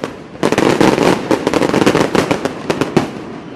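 Fireworks and firecrackers go off in a rapid, irregular string of loud cracks and pops, nearby and continuous for several seconds.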